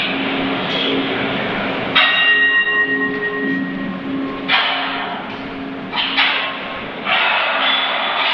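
A train with carriages running on rails through the tunnels of Fort Schoenenbourg on the Maginot Line, a steady rumbling roll. Sustained metallic squeals and ringing tones rise and fall over the noise, and the sound surges louder in bursts throughout.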